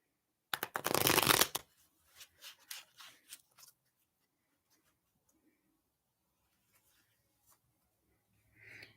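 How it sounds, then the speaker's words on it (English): Tarot cards are shuffled in a quick, loud riffle lasting about a second, followed by several softer slides and taps as individual cards are drawn, then near silence. "I'm going to pull out 3 clarification cards for your first card."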